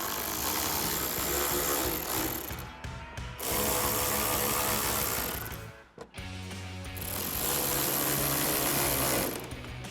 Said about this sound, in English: again using our 10mm socket on our ratchet.